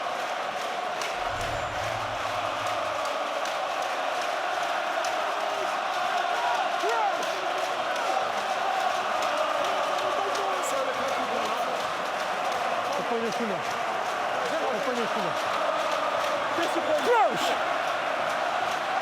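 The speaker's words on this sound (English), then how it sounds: "listen to this crowd now" A large rugby stadium crowd at a Heineken Cup quarter-final between Ulster and Saracens roars continuously in a dense, sustained wash of noise, with a commentator talking over it.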